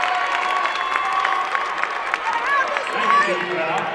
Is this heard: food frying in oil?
no